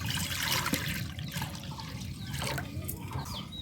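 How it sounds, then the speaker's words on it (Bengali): Water is poured into a cooking pot on the stove while making a cabbage pitha recipe, a continuous close splashing gush that lasts a few seconds, with no talking. "আমি জল দিয়ে দিচ্ছি।"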